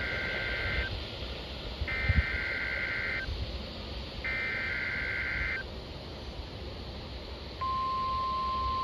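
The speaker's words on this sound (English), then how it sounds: "a test of the National Weather Service warning alarm tone" Steady warning alarm tone from a National Weather Service test broadcast on NOAA Weather Radio, sounding as a continuous pitched tone that starts near the end, preceded by short broken electronic data bursts over radio hiss.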